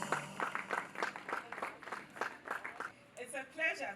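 Scattered hand claps from a small audience at a Rotary Club of Accra Airport East end-of-year meeting, greeting a new honorary member. The claps come in a quick, loose rhythm for about three seconds, then a voice speaks.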